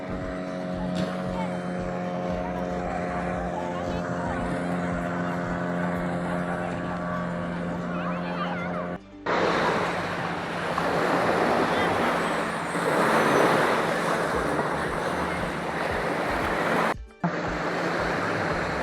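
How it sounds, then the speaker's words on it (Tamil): A boat carrying passengers runs on the sea off Mullaitivu, with a steady engine drone, then loud rushing water and wind noise, broken by brief cuts; voices talk over it. "பாருங்க போட் ஓடுறாங்க ஆக்களை ஏத்தி கொண்டு"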